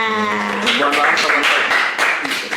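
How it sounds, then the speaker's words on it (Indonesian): Audience clapping at an Islamic talk show on Ramadan, rising into a run of dense vertical bursts after a sustained voice-like tone at the start, fairly loud and close. "Tepuk tangan dulu untuk kita semua."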